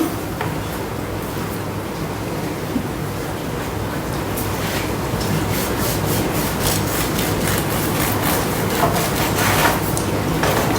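A knife sawing through a loaf of sourdough discard raisin bread, a steady rasping back-and-forth scrape held close for several seconds without any speech.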